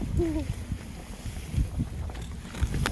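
Gusty mountain wind buffets the microphone in low, rumbling bursts, with a brief faint squeak early on.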